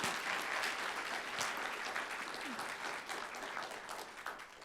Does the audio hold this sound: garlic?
no